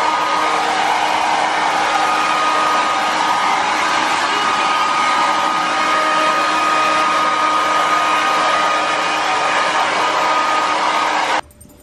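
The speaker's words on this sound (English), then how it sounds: "I gotta blow dry him and everything." Hair dryer blowing on a soaking wet dog after a bath, a loud continuous close-up whooshing drone held steady throughout before cutting off abruptly at the end.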